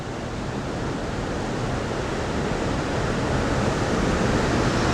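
Water rushes steadily through a narrow gorge below a park waterfall at Nay Aug Park in Scranton, Pennsylvania. The broad roar is continuous and fairly loud, grows slightly stronger over time, and has no voices over it.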